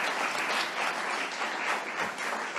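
An audience at a robotics competition event claps in a steady, dense round of applause, moderately loud and evenly sustained throughout with no voices on top.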